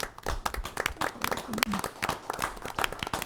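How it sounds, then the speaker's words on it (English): Brief applause with scattered clapping breaks out at a borough council meeting after a Military Appreciation Month proclamation, mixed with murmured voices from the room. "Round of applause."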